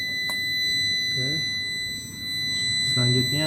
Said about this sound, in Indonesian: saat tenggelam, bandul akan ke atas ya, dan buzzer akan bunyi gitu